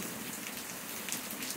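Steady rain falls on the ground in the Paraíba sertão of northeastern Brazil, a dense close hiss of drops with no talking.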